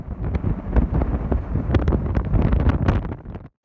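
Strong wind gusts buffet the microphone at Blankenberge harbour, a loud, rough roar with irregular bursts and thumps throughout, with no voices.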